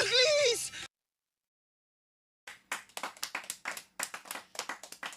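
After a short stretch of voice and a silent gap, sharp distinct hand claps from an audience at a comedy show start up and continue in a quick uneven rhythm, each clap crisp and separate.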